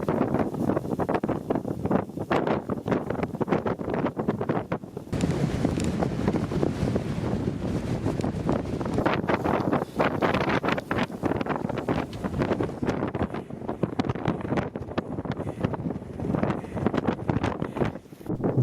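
Strong storm wind on the route to Cap Nord, buffeting the microphone in loud, ragged gusts with a constant roar, close and harsh, no voices.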